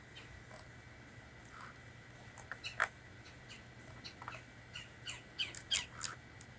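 Woodpecker outdoors giving scattered short, sharp squawks at a moderate distance, several calls spread irregularly over quiet background hum.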